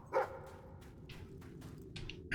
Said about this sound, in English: The dog is barking for dig spots.